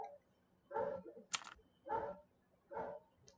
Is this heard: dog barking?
yes